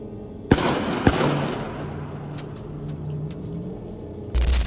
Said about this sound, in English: Gunshots rang out through the area, instantly cutting through the quiet.